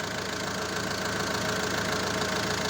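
A rebuilt Renault 1.9 engine idles steadily up close with its exhaust connected, a continuous mechanical rumble with an even, slightly knocking pulse and no voices.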